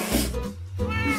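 A short, clear cat meow from Minecraft, heard once, close and loud, with a rising then falling tone, and no talking.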